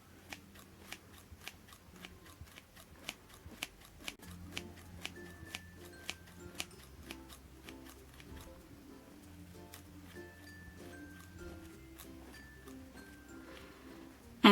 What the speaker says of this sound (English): just make really small snips with your scissors